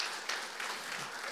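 A church congregation applauds. The clapping is a short, dense, steady burst throughout, moderately loud with no pauses.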